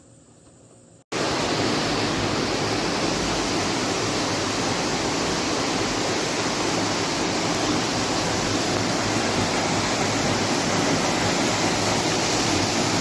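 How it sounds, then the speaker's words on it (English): Water pouring steadily into fish hatchery tanks, a loud, dense, unbroken rush close by that starts abruptly after a brief quieter moment and then holds constant with no voices. "keeps the water flowing into the tank, gives more oxygen"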